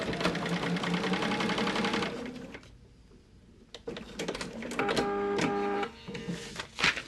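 A sewing machine stitches fabric pieces for quilt blocks, running in fast close mechanical bursts with a short pause in the middle before restarting, and no one speaking.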